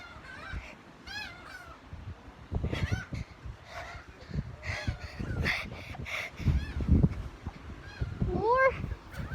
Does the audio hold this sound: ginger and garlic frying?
no